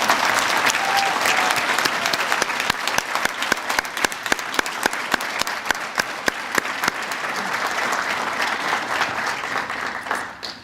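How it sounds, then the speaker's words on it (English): A large audience at a Methodist College commencement ceremony breaks into sustained applause, many hands clapping steadily and loudly for about ten seconds before it begins to fade. "giving her a round of applause for her work"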